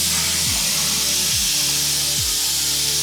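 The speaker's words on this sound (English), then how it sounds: "Spray, let up, spray, let up." Spray gun applying paint to a steel sailboat hull: a loud, constant airy hiss runs throughout, with brief dips as the trigger is released and squeezed again about three times.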